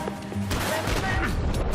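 A quick burst of Max Payne 3 gunfire, several sharp shots close together over a noisy background.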